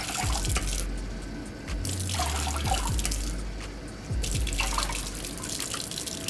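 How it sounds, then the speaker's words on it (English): Water mixed with cleaning solution is poured into the clean water tank of a wet and dry vacuum cleaner, a close trickling and splashing fill that comes in short bursts with brief pauses. "stir well and pour into the clean water tank for"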